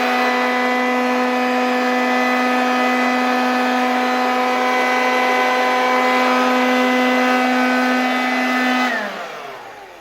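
An old Soviet handheld Veterok 2 vacuum cleaner runs without its brush attachment, giving a steady, loud whining motor drone that holds for several seconds before spinning down and fading near the end.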